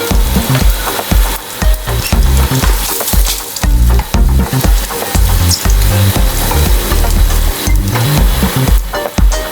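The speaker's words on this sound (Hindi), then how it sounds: "जो हमने साबुत मसाले लिए थे वो ऐड करते हैं इसके अंदर।" Whole spices and chopped garlic sizzle loudly in hot oil while pav bhaji is being made, with a steady close frying hiss broken by repeated rhythmic knocks of stirring against the pan.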